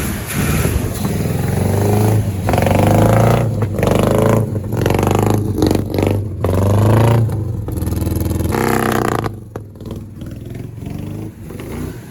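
An old 1977 Ford car engine runs loudly up close with a rough, uneven rattle and clatter from its water pump, rising and falling in intensity.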